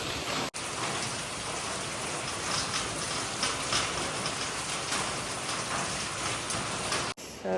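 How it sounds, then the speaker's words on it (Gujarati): Heavy afternoon rain pours steadily, a dense, even hiss of drops hitting surfaces that carries on unbroken, apart from short cuts at the start and end. "વરસાદ પણ બહુ બપોરનો આવ્યો છે ચાલુ જ છે"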